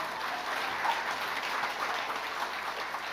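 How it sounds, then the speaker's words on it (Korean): A church congregation gives brief, soft applause after a choir performance, heard as a moderate, even patter of clapping throughout. "박수 한번 합시다."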